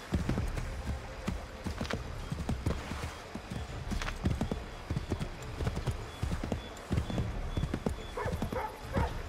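Horse hooves gallop in a steady, fast clip-clop rhythm while riding in the video game Assassin's Creed III, close and fairly loud, with occasional snorts and outdoor ambience around them.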